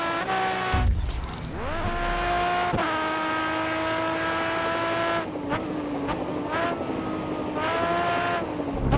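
Race car engine in GRID Autosport revving hard and shifting through gears, with pitch sweeps as it brakes and accelerates through corners, a brief tire squeal near the start.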